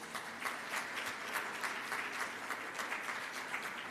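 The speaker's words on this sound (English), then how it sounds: "I think a recap like that deserves a round of applause" A round of applause from a data privacy conference audience, fairly quiet and somewhat distant, with individual claps pulsing through a steady patter of many hands over nearly four seconds.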